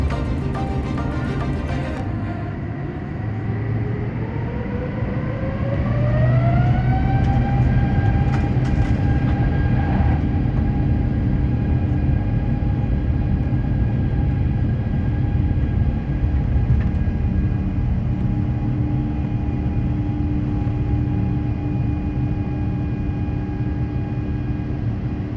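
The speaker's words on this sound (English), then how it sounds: "Taking off out of Madrid airport, we begin our 2-hour 10-minute flight over to London's Heathrow airport." Airliner taking off from Madrid airport on a flight to London Heathrow, heard from inside the cabin as a loud, steady engine roar that climbs in pitch during the first seconds, then holds a sustained drone with no voices.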